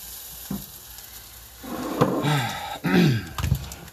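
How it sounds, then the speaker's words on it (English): Onions sizzling in a hot pan while being stirred, with bursts of crackling frying and scraping stirring strokes that grow louder partway through, close and prominent. "Onions, get them going,"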